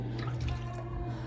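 Liquor being poured into a small shot glass, heard as a brief, soft, steady trickle over a low background hum.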